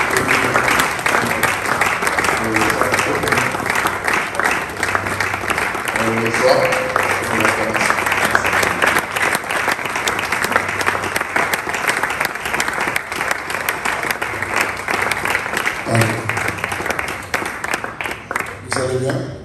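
A church congregation in Kinshasa applauds at length, a dense, sustained roar of clapping with crowd noise and a voice talking over it at times, easing near the end.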